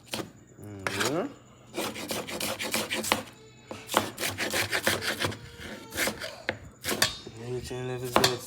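A knife chops an onion on a wooden board in bursts of quick, close taps with short pauses between runs, while people talk in between.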